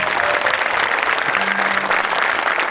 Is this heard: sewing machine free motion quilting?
no